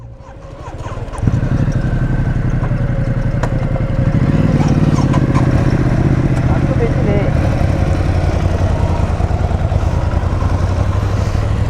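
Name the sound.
motorcycle engine running before a ride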